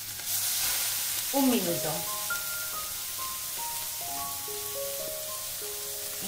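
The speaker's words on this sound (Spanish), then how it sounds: "Lo único que quiero simplemente es sellar el salmón." Salmon sears in a hot pan with no oil, giving a loud, continuous sizzle and crackle throughout, while someone speaks briefly over it.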